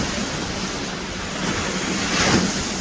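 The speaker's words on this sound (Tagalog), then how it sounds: "napakasarap ng hampas ng alon sa pandinig" Ocean surf washing onto an east coast shore, a steady loud roar with wind buffeting the microphone and a wave building to a crash near the end, no voices.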